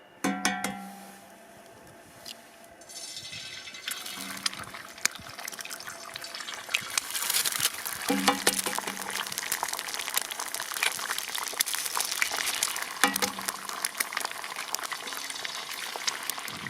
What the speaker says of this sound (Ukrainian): Наливаю олію на скороводу. Спочатку обсмажую куричі.